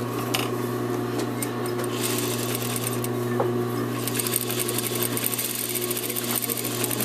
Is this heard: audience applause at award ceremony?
no